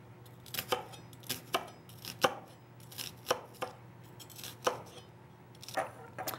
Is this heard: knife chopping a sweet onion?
yes